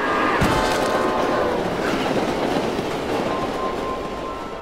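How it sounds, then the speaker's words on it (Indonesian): Train rushing past at close range in a film scene where it strikes a man, a loud dense roar with wheel clatter and a ringing metallic squeal, a sharp thump near the start, then the rumble slowly fades. "tanpa sengaja, dia malah dihantam oleh sebuah kereta"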